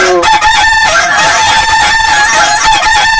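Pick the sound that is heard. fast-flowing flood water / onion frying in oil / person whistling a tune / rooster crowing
rooster crowing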